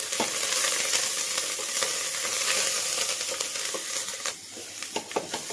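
Fried peanuts with turmeric, salt and chopped coriander are stirred in a hot pan, a loud steady sizzle with scraping spoon strokes and a few sharper knocks toward the end.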